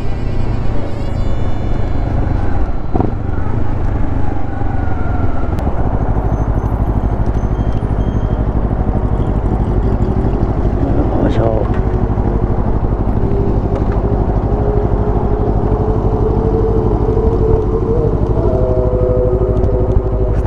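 A new Honda CBR250RR's engine drones steadily while riding, its smooth hum partly buried under heavy wind rush across the microphone, with no talking.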